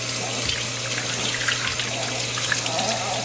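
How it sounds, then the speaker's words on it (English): Running water pours steadily over a six-week-old Aussiedoodle puppy as she is rinsed during her bath, a continuous close splashing wash with no talk. "now it's Poppy's turn for her bath. Get her rinsed up here."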